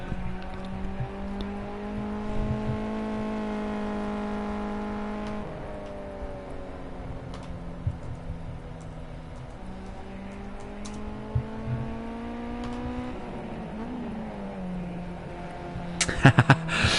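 Club racing cars, including a rear-wheel-drive G40, run at Cadwell Park with sustained engine drone that rises and dips in pitch as they pass, ending in a burst of louder crackles.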